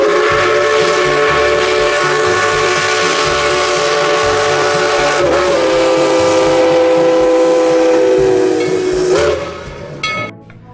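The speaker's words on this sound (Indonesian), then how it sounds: "Yang ini ada kereta Thomas." A steam whistle shrills steadily over hissing steam and the rhythmic clatter of a Thomas toy train running along its track, then fades out near the end.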